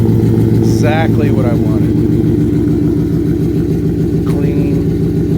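A 2016 Shelby F150 running through a Borla XR1 muffler with gutted cats, holding a loud, steady, deep idle throughout while someone talks over it in brief bursts.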